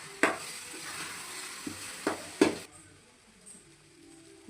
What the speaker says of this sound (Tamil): ஒன்று ஊற்றி நல்லா கிண்டிங்க.